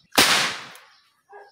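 A nail gun fires once with a loud, sharp bang right up close. The bang decays quickly and is followed by a brief faint rustle.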